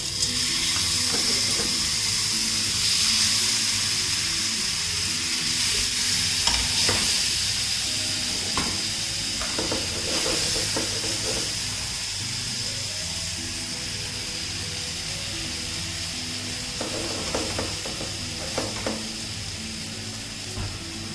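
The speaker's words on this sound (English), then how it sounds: "we're just trying to mimic that and cook it on a high flame. So I'm just going to take some and put it on the pan" Paneer tikka searing in a pan over a high gas flame gives a steady, loud sizzle throughout, with occasional clinks and scrapes of stirring, and no talking.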